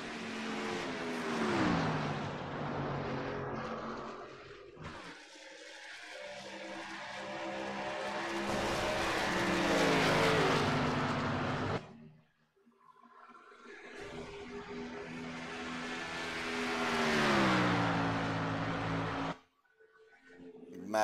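A race car lapping at Pocono, its engine rising and falling through gear changes and passing by in repeated surges, loud and close, with brief near-silent gaps between passes.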